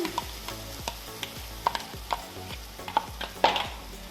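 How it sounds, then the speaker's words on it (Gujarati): A spoon stirs a coconut mixture with milk and milk powder in a pan, making rhythmic scraping strokes and light clinks over a soft simmering sizzle. "અને સારી રીતે બધું આપણે મિક્સ કરશું"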